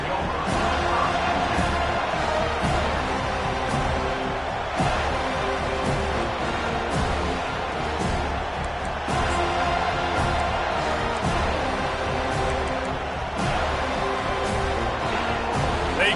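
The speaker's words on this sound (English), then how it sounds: "They challenge this crowd to bring the energy, and I'd say they're doing that." Big stadium crowd roaring and cheering steadily at a college football game, Florida at FSU, a dense continuous wall of noise with scattered claps and shouts throughout, loud and sustained.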